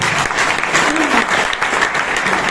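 A seminar crowd gives sustained applause, dense clapping filling the whole stretch at steady volume, with some voices mixed in.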